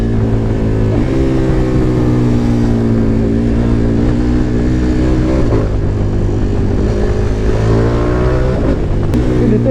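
A KTM 1290 Super Adventure motorcycle engine revs loudly up and down, its pitch rising and falling in sweeps, close and continuous throughout.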